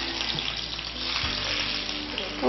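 Dried red chillies frying in coconut oil with popped mustard seeds, a steady close sizzle with faint stirring clinks and no talk.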